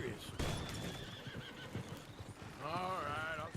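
A horse in the video game Red Dead Redemption 2 whinnies loudly and close at the end, after hooves clip-clop on a town street, while people talk throughout.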